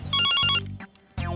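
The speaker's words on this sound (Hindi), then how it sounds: "जब देखो तो फोन ही बजता रहता है।" Telephone ringtone at home rings loudly in two bursts of bright repeating electronic tones, pausing briefly between them, with no voices over it.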